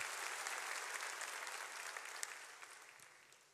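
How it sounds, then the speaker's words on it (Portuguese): A church congregation claps together in a large room, a full sustained round of applause that gradually fades toward the end. "Queria que nós abençoássemos a vida da Francis. com as nossas palmas"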